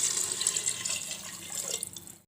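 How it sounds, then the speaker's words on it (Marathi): Water pours steadily into a pot of chicken pulao, a close, continuous splashing rush that thins out and stops abruptly. "आपण पाणी टाकू."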